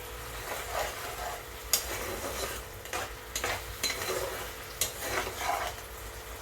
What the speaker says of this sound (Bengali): এবারে নাড়াচাড়া করে আমি মশলাটা ভালো করে কষিয়ে নিচ্ছি